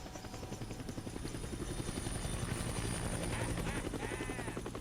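Helicopter in the Dead Rising video game, its rotor beating as a steady loud drone with a continuous hum through the whole stretch, no talk over it.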